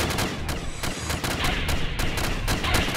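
Cannon fire during a Minecraft video game battle, a rapid series of loud, sharp blasts in quick succession, dense and overlapping like a barrage, continuing without pause; no talking.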